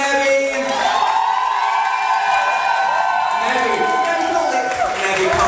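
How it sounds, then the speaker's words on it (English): A drag show audience cheers and whoops loudly in a dense, sustained roar that fills the whole moment, with shouts rising above the crowd noise. "Can we get a massive cheer for Nebby?"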